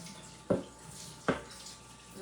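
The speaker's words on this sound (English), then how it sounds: "I'm going to just pour the water off." Water is poured off from an electric skillet in a home kitchen, giving two short splashing bursts against a low room hum.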